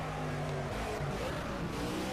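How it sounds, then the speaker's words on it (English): A stock car engine in the Project CARS NASCAR racing game holds a loud, steady, droning roar with a sustained high-revving tone and little change in pitch. "We can just completely rev the hell out of the engine."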